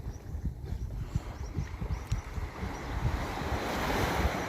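Gentle waves of a calm sea wash onto a beach in a steady rush, with wind buffeting the microphone and the surf swelling slightly toward the end.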